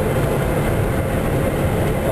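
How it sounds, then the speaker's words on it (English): Steady low rumble of a coal-laden freight train rolling past, continuous and fairly loud with rhythmic rail clatter and wind noise throughout. "you can see the train down here with all them loads of all that coal"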